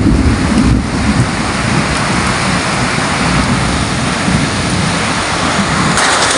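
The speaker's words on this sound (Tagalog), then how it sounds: "Mas malakas tong ulan na to." Heavy, steady downpour of rain hissing loudly and continuously on surfaces during a June afternoon storm, with no voices and no breaks.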